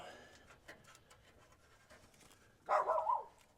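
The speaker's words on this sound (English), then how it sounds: "Oh, dog." A dog pants softly and irregularly up close, then lets out a short, loud, tonal bark-like yelp near the end.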